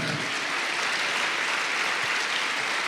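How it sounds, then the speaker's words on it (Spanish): Church congregation clapping hands, an even, fairly quiet wash of applause holding steady throughout with no voices on top. "Dele palmas al Señor"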